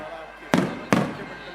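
Fireworks at the closing ceremony of a cricket tournament final go off as two sharp, loud bursts about half a second apart, each trailing off quickly over faint background voices.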